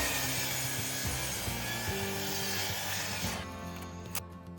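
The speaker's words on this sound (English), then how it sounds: "with this piece of oak, I'm gonna trim up the end and then cut it to 13 inches." A saw cuts and trims the end of an oak board, a dense continuous rasping grind that runs for several seconds and then stops abruptly, leaving a brief faint clatter.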